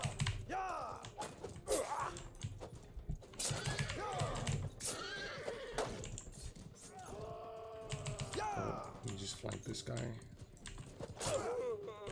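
A horse whinnies amid Mount and Blade game sounds and clattering hooves, with keyboard clicks and someone talking over the action.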